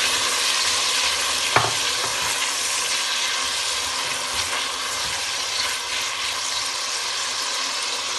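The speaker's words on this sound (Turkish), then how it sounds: "iki tane küp küp doğranmış patateslerimi tencereye atıyorum" Steady, close sizzling of diced potatoes frying in butter in a pot, with a single sharp tap near the start.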